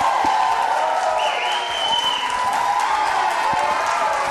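Studio audience clapping and cheering to welcome a guest onto a show, a steady crowd wash of applause that holds at even loudness throughout, with a faint whistle-like tone briefly riding over it.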